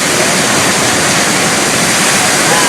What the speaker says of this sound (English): They had these cutouts in the rock where you could actually see the water cascading down.